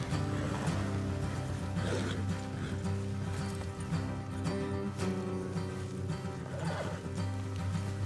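Rhythmic hoof clip-clops from horses in the video game Red Dead Redemption 2 move along over a sustained musical backdrop, with a faint whinny mixed in.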